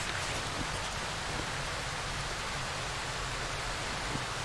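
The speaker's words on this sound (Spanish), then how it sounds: "Pues qué ruido la puta lluvia" Heavy rain in the video game Darkwood hisses in a dense, steady roar of countless drops with no pauses, filling the scene evenly and masking everything else.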